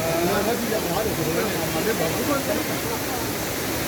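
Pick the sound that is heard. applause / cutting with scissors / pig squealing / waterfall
waterfall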